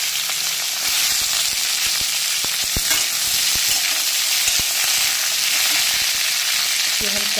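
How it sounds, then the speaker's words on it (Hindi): Ivy gourd (kundru) hits hot oil tempered with cumin, fennel, mustard seeds and a red chilli, and sizzles loudly and constantly at close range while a spoon stirs it with sharp, intermittent clacks against the pan. "अब हम इसमें कुंदरू को डालेंगे।"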